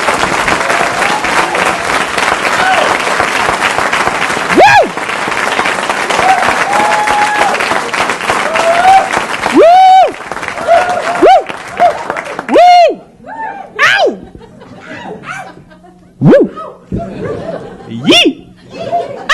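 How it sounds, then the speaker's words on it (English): A comedy club crowd claps and laughs as Louis C.K. takes the stage in 1989, loud applause mixed with chuckles and scattered voices rising and falling in bursts. "Nice round of applause,"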